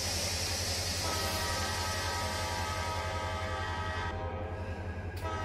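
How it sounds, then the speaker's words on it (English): A freight train in the Run8 Train Simulator video game rumbles at idle with a low steady drone while its horn blows a sustained chord for several seconds before cutting off near the end, with no voices. "I am going to just idle the train and give it minimal brake application so that we can just start slowing down here."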